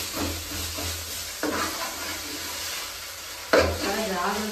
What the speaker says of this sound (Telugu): పచ్చి వాసన పోయినంత వరకు ఆయిల్లో బాగా ఫ్రై చేసుకోవాలన్నమాట